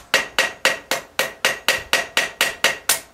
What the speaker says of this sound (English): start to peen this nail over a little bit at a time